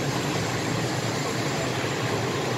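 A passenger train bound for Gdynia heard from inside the carriage, a constant dense rumble and broadband rushing noise with no voices.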